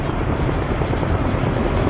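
A video-game helicopter lifts off with a loud, steady rotor roar that fills the whole short stretch without a break.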